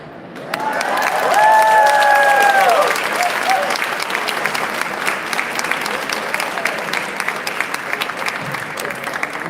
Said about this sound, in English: Another round of applause for Anjeanette,